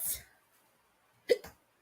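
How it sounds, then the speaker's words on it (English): Two quick, close hiccups in a row follow a brief breathy sound, all quiet and with no talking over them. "Oh, that gave me the hiccups"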